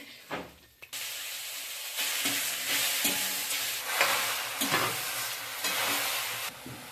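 Cracked jujubes hit a pan with a little oil and coriander powder for a pickle. After a brief quiet start, a bright sizzle bursts up and holds steady, broken by repeated stirring scrapes.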